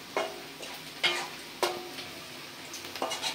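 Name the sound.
panch phoron spices frying in oil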